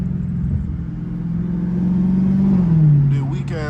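A straight-piped Dodge Hellcat engine drones loud and steady while driving, its low exhaust note swelling and then dropping in pitch as it revs and shifts.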